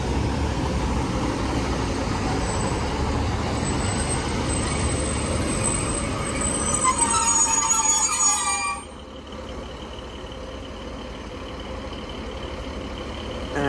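A class 156 diesel train departs from Widnes, its engine rumble and rolling noise steady and moderately close before fading abruptly, heard alone.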